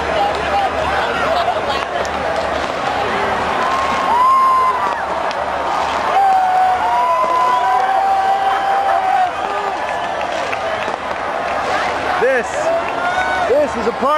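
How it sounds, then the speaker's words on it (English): A big crowd at a Florida Gators 2006 national championship party cheers and shouts in a loud, continuous roar, with scattered whoops and yells rising above it throughout. "It's a big crowd that's cheering."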